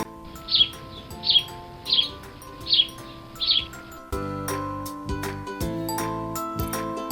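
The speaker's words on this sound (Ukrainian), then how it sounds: "Горобець цвірінькає." A house sparrow chirps five times in a steady, evenly spaced series, clear and close, over a soft musical background that swells louder once the calls stop.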